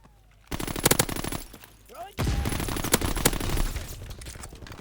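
Gunfire bursts in a Call of Duty: WWII multiplayer match, dense rapid shots in two loud stretches with a short lull between, under game ambience.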